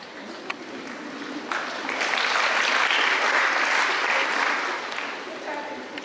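An audience breaks into applause that swells to a full, steady clapping roar and then gradually thins out toward the end.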